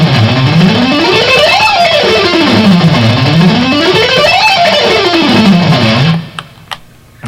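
A distorted electric guitar plays a fast octave lick at full tempo in an intense rock style, a loud repeating sweep that climbs and falls in pitch twice, then cuts off abruptly into quiet with a few faint taps.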